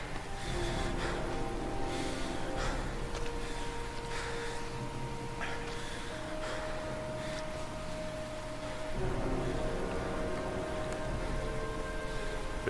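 Heavy rain in the video game Heavy Rain, a constant dense hiss of rainfall with scattered drops and patters, accompanied by a faint steady hum and occasional brief noises.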